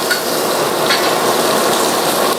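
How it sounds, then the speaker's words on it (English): Vegetables, carrots among them, fry in a loud, continuous sizzle close up, with a steady crackling hiss and no pauses. The stir-fry is for moo goo gai pan, and no voices are heard. "I'm going to pre-cook the vegetables"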